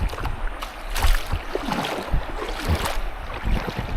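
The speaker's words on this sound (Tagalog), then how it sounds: "Malakas kaya ang agos dito." Strong, shallow river current rushing past a camping spot, a dense steady wash of flowing water with irregular splashes and gurgles, close and continuous with no speech.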